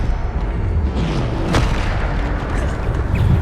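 A Bombarda spell explodes in Hogwarts Legacy combat, giving a muffled booming blast amid steady game noise, with a sharper burst near the middle.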